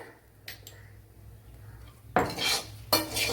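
Metal utensils clink and scrape against a pan while salt is mixed into fried bitter gourd, giving a soft early tap, then two loud, close bursts of clattering, with no talking.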